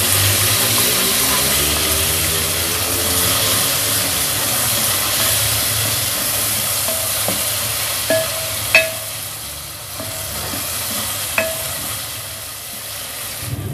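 Onion frying with garlic-ginger paste in a pan for a matar aloo curry gives a steady, close sizzle. A few sharp clinks and scrapes of stirring come near the end, and no one speaks.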